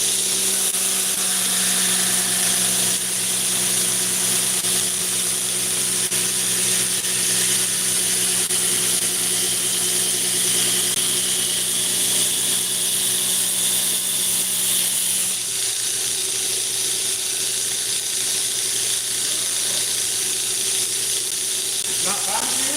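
A belt grinder with a 40 grit belt grinds CruWear steel in a continuous, loud, hissing rasp with sustained high tones, running steadily throughout and easing slightly near the end.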